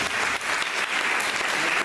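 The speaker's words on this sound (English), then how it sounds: "So, give yourselves a round of applause for being here." Event audience applauding together at a community gathering, a steady dense wash of many hands clapping that holds evenly throughout the short stretch.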